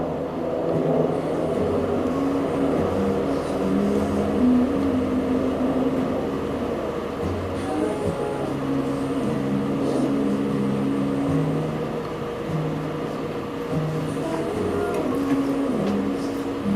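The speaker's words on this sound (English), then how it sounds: "Pardon the helicopters going over the top as usual." A continuous low mechanical drone hums steadily throughout, like helicopters passing overhead at a distance, with no talking.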